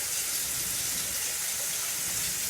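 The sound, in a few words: small amount of water poured into curry pan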